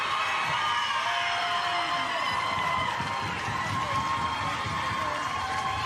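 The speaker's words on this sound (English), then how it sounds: "The crowd are on their feet." Crowd on its feet at a women's rugby match, Blues against Hurricanes Poua, sending up a steady roar of cheering and whooping that carries without a break, with faint talk mixed in.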